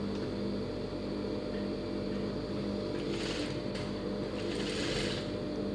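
A sewing machine stitches a cross-cut blouse in a steady, continuous mechanical hum and whir, close and even throughout, with no talking.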